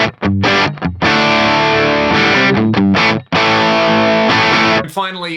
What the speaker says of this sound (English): There's a Vibro King model